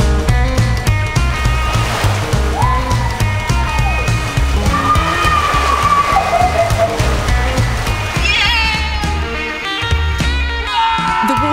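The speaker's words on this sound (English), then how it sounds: "The water is going really fast and taking me with it" Fast, loud rushing water carries a child down a water park slide, a steady dense roar with splashing and churning throughout, heard close up from the rider's position.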